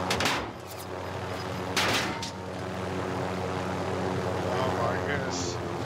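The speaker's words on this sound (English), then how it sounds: "Get your chopper out of here." A helicopter in the video game ARK drones steadily throughout under game sounds, with a couple of sharp gunshot-like bursts near the start and around two seconds in.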